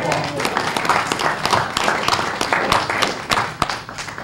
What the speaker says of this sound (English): Randall, round of applause.